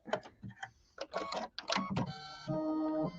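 Sewing machine stitching a pillow with red Pima cotton thread: short mechanical bursts of stitching with brief pauses, then a steadier whirring run near the end, close and clear with no speech.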